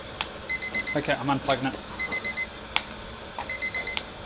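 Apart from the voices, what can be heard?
water heater temperature alarm beeping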